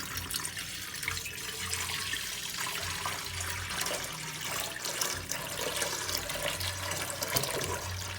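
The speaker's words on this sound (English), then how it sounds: "to this neat pot, I'll be adding enough water" Cold water poured into a cooking pot while preparing Nigerian achicha and fio fio with pigeon peas, a continuous splashing, gurgling stream that runs steadily for several seconds at a modest level.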